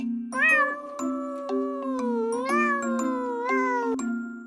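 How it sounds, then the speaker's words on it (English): A cat meows repeatedly in clear, close, drawn-out calls over a steady low droning tone, part of a Halloween-themed sound set. "Cat."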